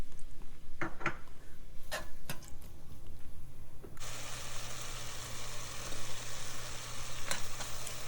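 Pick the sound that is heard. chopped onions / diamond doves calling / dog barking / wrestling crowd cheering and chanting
chopped onions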